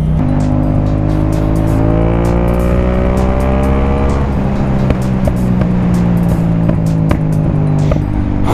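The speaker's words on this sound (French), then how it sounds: "L'accélération était un peu trop brutale pour la GoPro." A car engine revs hard under acceleration, loud and close, its harmonic tone rising steadily then dropping and climbing again as gears change, with wind buffeting and small knocks on top throughout.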